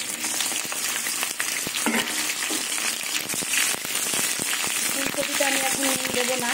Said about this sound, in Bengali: আমি ফুলকপিগুলো আগে ভেজে নেব